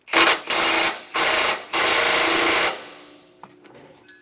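A tool works an 18 millimeter socket on a bracket bolt of a 2019 Ford E-Series van during front anti-sway bar installation, giving loud whirring bursts in three runs that stop, followed by faint clanks.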